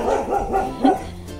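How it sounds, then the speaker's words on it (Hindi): A village dog barks in several short, close yips with a slight whimpering edge, heard alone in an outdoor setting. "कुत्ती ये पता नहीं किसको अभी किस पे गुर्रा रही है"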